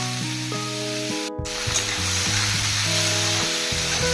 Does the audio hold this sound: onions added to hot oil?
yes